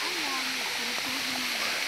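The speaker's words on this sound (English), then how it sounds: "There is the falls." Waterfall at a seaside resort, a steady broadband rush of falling water that fills the whole clip, with a voice talking briefly over the constant roar.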